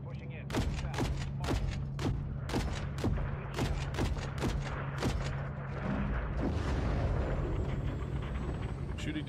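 Gunfire in the Call of Duty Modern Warfare 3 campaign cracks out in a rhythmic string of about a dozen sharp shots over a low rumble, giving way to a denser, continuous clamour of combat.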